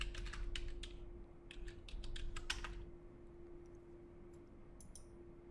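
Keystrokes on a computer keyboard typing into a web browser, a quick run of light clicks and then a few scattered taps, with a steady electrical hum underneath and no talk.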